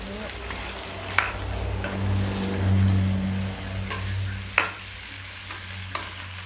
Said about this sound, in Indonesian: Kita tunggu panas minyaknya dulu. Lalu kita tumis bawang bombaynya.